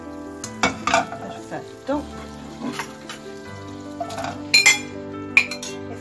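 Tomatoes sizzle softly in a pan with garlic, with sharp clinks of a utensil against the cookware scattered throughout and a person talking over steady background music.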